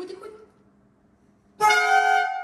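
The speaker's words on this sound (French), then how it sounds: "Oh, le klaxon du Seigneur." Car horn on a Citroën BX blaring in one loud, sustained honk right after a few quiet seconds of faint talk.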